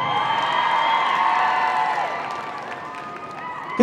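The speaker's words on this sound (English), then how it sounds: "Can always trust the Scots to give us a big cheer." A crowd at the Crufts dog agility show cheers and whoops loudly, with high shouting voices and clapping filling the arena, then gradually easing off.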